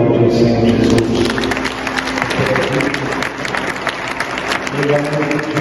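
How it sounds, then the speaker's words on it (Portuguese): Congregation clapping during a Portuguese-language church worship service, a dense, loud wash of applause throughout with a voice speaking over it and sustained music tones underneath. "Você pode aplaudir o Senhor Jesus."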